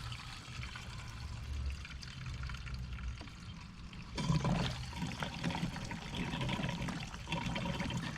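Gasoline glugs and trickles from a can into the large tank of a Stihl BR450 backpack blower, a faint liquid pour that grows louder and more splashy halfway through.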